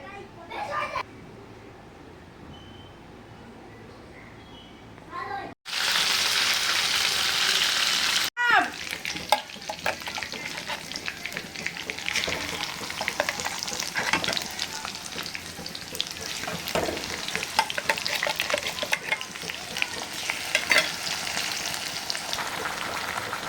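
Paneer cubes fry in hot oil with a dense, crackling sizzle and stirring clatter that runs for most of the stretch, after a quieter opening with a few faint voices.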